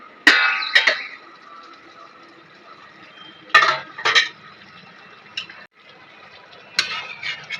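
Pot lid lifted off Nizami dum chicken, bright metallic clanks and scrapes coming in short bursts with quiet gaps between, close and fairly loud.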